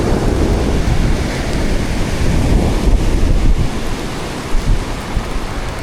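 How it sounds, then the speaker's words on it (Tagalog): Strong sea waves crash and roar continuously along the shore, with a loud, dense rush of surf and wind that barely lets up. "Lakas ng alon."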